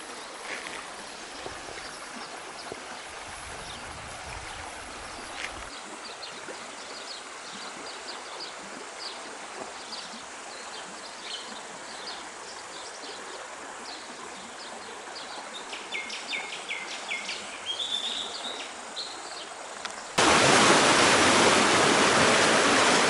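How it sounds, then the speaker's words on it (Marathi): Steady rushing of a stream and waterfall on a lush green nature walk at Blue Springs, with birds chirping over the continuous water noise, which grows sharply louder near the end. "पाण्याचे निर्जर झरा हा सतत आमची साथ देतोय"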